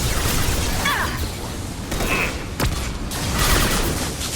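Flashbang grenade going off during a Mass Effect 2 firefight, a sharp crack over a dense wash of combat noise and mechanical clatter, with a brief burst near the middle.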